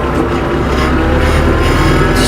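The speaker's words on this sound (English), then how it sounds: "the tractor starts going up" A tractor fitted with pewag snow chains climbs a snowy slope, its engine a loud, steady drone with a broad rumble, close by and unbroken for the whole short stretch.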